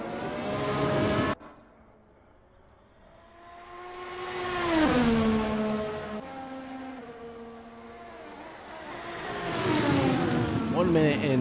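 Stake Sauber race car on its final lap at Silverstone, its engine note rising and falling through shifts, swelling loud twice as it accelerates, with a sharp cut near the start.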